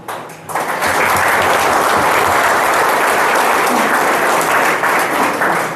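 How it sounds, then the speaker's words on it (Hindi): Loud, continuous crowd applause at a BJP candidate announcement in Ulhasnagar rises after a brief quieter moment, then holds as a thick, even wash of clapping with no speech over it. "आपकी तालियों की गूंज बता रही है"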